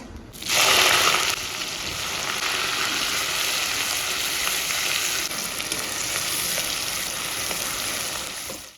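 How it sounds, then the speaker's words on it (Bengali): Whole garam masala, dried chili, cumin, bay leaf and chopped onion hit hot oil, setting off a sharp loud sizzle that eases into a steady close frying hiss and holds to the end, with no voices. "তেল দিয়ে দিচ্ছি হয়ে গেছে এখন ফোড়নে কি কি যাচ্ছে গোটা গরম মশলা শুকনো লঙ্কা জিরে তেজপাতা কুচনো পেঁয়াজ"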